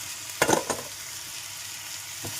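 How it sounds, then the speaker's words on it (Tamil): Onion and vegetables sauté in a pan with a soft, low sizzle, broken by a short cluster of stirring scrapes and a later single tap. "இது ரெண்டும் நல்லா வதங்கட்டும்."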